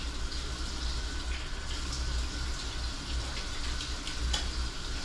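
Tap water runs steadily into a sink for face washing, a continuous soft splashing rush with no breaks, fairly close and alone without talk.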